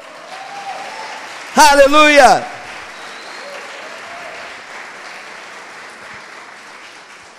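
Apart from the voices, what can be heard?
congregation applause in church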